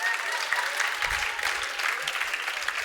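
Applause from an audience for Estelle's birthday at a live show, a steady, moderately soft wash of many hands clapping for a few seconds.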